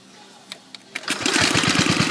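Stock-pulley racing lawn mower engine starting up for a quick ride around the yard: a few sharp knocks, then a loud, rapid, close-up putter that holds steady to the end.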